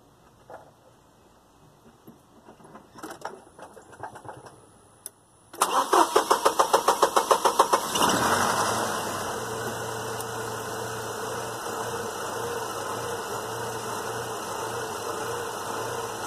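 Chevy truck fitted with a custom cold air intake cranks in quick rapid pulses and catches, then settles into a loud steady idle close by, with faint clicks and handling sounds beforehand.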